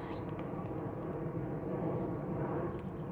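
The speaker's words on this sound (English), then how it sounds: "There's a plane." An airplane passes overhead near Heathrow beside Kew Gardens in London, a broad, steady low roar that stays fairly constant and moderately faint throughout, with no talking.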